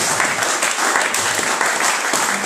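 A church congregation applauds steadily throughout, a dense, sustained crackle of many hands clapping with no break.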